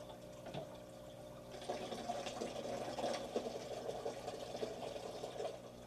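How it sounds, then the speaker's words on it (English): Water spilling out through an aquarium overflow tube, a steady wet trickle and splashing that starts faint and grows fuller after a moment, with continuous gurgling close by. "Once this level raises above this tube, it's going to start to overflow out"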